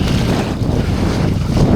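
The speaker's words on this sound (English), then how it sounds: "So this is proper gusting, and like the stability is so good." Strong gusts batter the microphone as a rider parawings across open water, producing a steady, loud roar of wind over the faint rush of the board and surf, with no voices.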